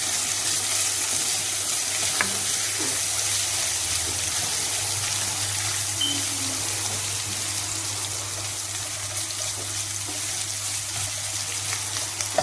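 Chicken keema sizzles steadily in hot oil in a pan, a dense, loud frying hiss that runs throughout, with faint stirring scrapes.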